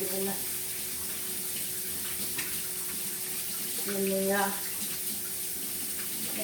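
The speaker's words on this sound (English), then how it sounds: "I gotta rinse my hands out" Running tap water in a kitchen sink as hands are rinsed under it, a steady rushing stream with brief splashy changes where the hands move through the flow.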